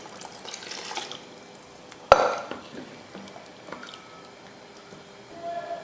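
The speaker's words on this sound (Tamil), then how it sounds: "கொஞ்சம் தண்ணியும் சேர்த்துடலாம்." Water poured into a simmering pot of dal kulambu for idli: a short, sharp splash followed by soft sloshing and bubbling, heard close by with no talking.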